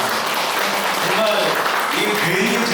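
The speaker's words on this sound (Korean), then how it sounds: "하은이 아빠 엄마에게 제가 박수를 드립니다" A congregation claps steadily throughout during a Sunday morning church service, a dense, even wash of applause with voices faintly mixed in.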